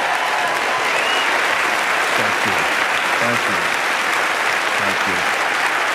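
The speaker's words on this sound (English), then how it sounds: "please give them a good round of applause" A conference audience gives a sustained, loud round of applause for three airmen, dense clapping throughout while a voice briefly speaks over it.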